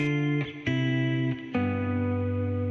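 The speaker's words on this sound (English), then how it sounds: "the big ones are reverb and then a replica diffusion delay that makes it sound like this" Sustained electric guitar chords that change every second or so, washed in lush reverb and smeared diffusion delay, ringing on with a long shimmering tail.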